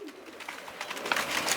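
Pigeons kept at a home loft in Bagnan, West Bengal, coo softly in a low murmur over a light flutter of movement and rustling. The sound grows a little busier toward the end, with no talking.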